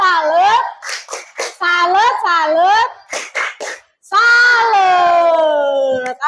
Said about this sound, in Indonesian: Tepuk salut buat Aldi